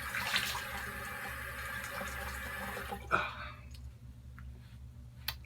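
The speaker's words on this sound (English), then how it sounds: "I'm going to do a little rinse right now" A bathroom tap runs water into a sink for a post-shave rinse, a steady rushing stream that cuts off abruptly partway through, leaving faint drips and small knocks in a quiet room.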